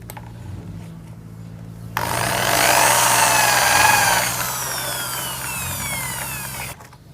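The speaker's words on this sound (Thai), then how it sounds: "จากนั้นนะครับเราจะเจาะรูที่ด้านปลายของแต่ละซี่นะครับ" A power drill bores holes into the ends of split wooden slats for a homemade tall-pole papaya picker, a loud steady whining burst of about five seconds with a high rising tone, alone with no talk.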